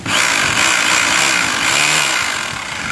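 An ENZO GBH 2-26 DFR 26 mm three-mode rotary hammer runs in chisel mode, producing a loud, continuous motorized buzz with a rapid hammering texture that stays close and steady, easing off slightly near the end.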